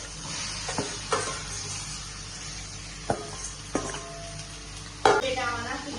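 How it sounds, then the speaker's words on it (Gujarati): Potatoes tumble into a pan of tomatoes spiced with turmeric, salt and chutney for a fasting-day dish, then get stirred, with sizzling under scattered clanks and scrapes of a spoon against the pan. "હવે એમાં નાખી દઈએ આપણે બટેટા અને પછી સેજવાર હલાવી"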